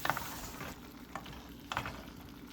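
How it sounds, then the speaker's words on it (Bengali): Vegetable curry with green chilli and a pinch of sugar being stirred in a pan, giving soft scraping and a faint sizzle with a few brief clinks of the utensil against the metal. "একটু চিনি দিয়ে দিলাম এবারে নেড়ে চেড়ে আমি নামিয়ে নেবো এটাকে"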